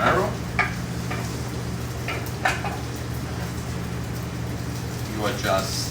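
Beef bone marrow melting into a risotto in a pan over a low flame gives a soft, steady sizzle with a few light spoon clinks and stirs, under a constant low background hum.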